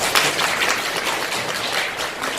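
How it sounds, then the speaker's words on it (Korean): Audience at a Seoul National University lecture breaks into dense, steady applause, many hands clapping together close by with no voices over it. "이강호 선배님께 다시 한번 큰 박수 부탁드리겠습니다"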